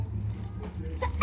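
A single short sneeze bursts out at the very end after a moment of quiet background noise.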